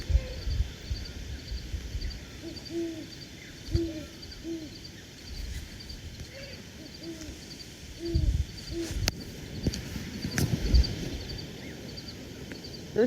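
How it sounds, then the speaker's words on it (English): A great horned owl gives repeated deep hoots in a field recording, sounding in short spaced groups through the clip over a steady chorus of high insects, with occasional faint knocks and rustles. "Great horned owl calling."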